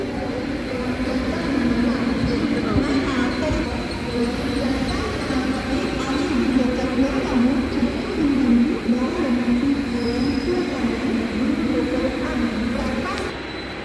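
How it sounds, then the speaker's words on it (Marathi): A retrofitted EMU local train on the Nerul–Uran line pulls into Ghawan station, its steady, close rumble of wheels and carriages filling the scene throughout before easing slightly at the end. "2 मिनिट अर्ली आपली लोकल आली आहे"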